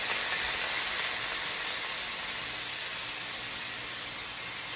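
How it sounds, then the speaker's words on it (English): Lamb chops sear in a hot pan, giving off a loud, continuous sizzling hiss that stays steady and close throughout. "I'm gonna place them in the pan. Listen to that sear. Listen to that sizzle."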